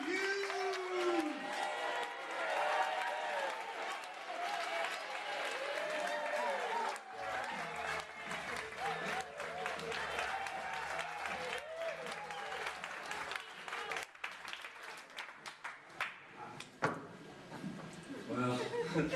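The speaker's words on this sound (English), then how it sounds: "Can we get that round of applause back in the room like before?" Sustained applause from a comedy club audience greeting a stand-up comedian, with a few whoops and a host's voice heard over the dense clapping at first, thinning later.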